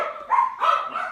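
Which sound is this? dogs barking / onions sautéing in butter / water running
dogs barking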